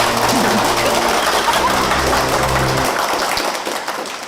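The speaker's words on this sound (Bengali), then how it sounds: "হয়ে যাক আরেকবার হাততালি।" Steady, dense applause from a crowd at an office company event, loud and continuous throughout, thinning slightly near the end.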